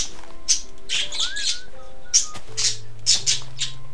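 A bird squawks and chirps in bursts of loud, shrill calls, close by, repeating irregularly with short pauses between clusters.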